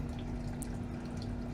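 Rinse water trickles and drips while silver powder is rinsed during a silver chloride conversion with lye and sugar, a soft continuous watery wash with a few small splashy drips and no talk.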